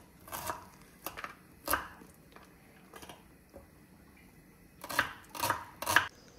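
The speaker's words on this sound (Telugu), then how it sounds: "సో దానికి కొన్ని ఆనియన్స్ తీసుకొని కట్ చేసుకోవాలి." Onions being chopped with a knife on a board in a home kitchen, sharp irregular cuts in small bursts with pauses, a cluster of quicker chops toward the end, close and clear, no talk.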